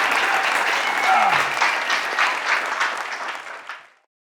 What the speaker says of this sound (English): Give him another round of applause, everybody